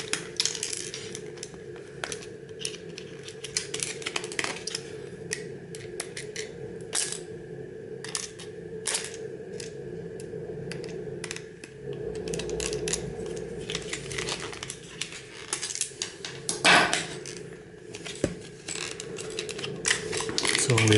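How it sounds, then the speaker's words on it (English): Small screws are removed while a gadget is taken apart, with repeated light metallic clicks, ratcheting turns and small part rattles close by, sounding irregularly throughout. "we're going to just remove all the screws"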